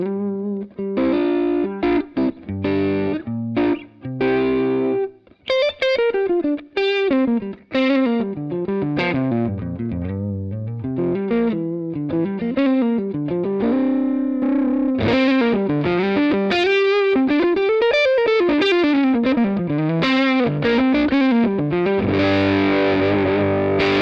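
An electric guitar through the drive channel of a Two Rock TS1 amp, a Dumble-style tube amplifier, plays overdriven single-note lines and bends, starting with choppy phrases and then singing sustained leads, loud and close.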